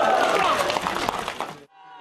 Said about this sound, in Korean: 포항 시민들은 환호했습니다.